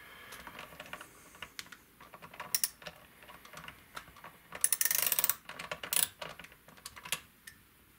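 Rapid ratcheting clicks and small metallic taps come from bolts being tightened while Guyker Dopamine guitar tuners are installed, with bursts of clicking close up.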